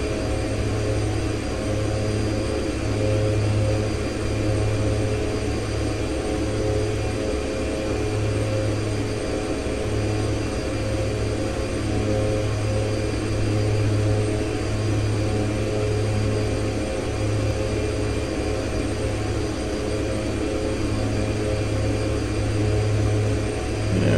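Twin Otter turboprop engines drone steadily in X-Plane 11 during a gradual descent toward Tucson, a constant loud hum with a pulsing low throb throughout.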